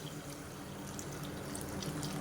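Water pours steadily into a cooking pot for rice, a continuous splashing stream running alone at close range for the whole moment, with no voices over it.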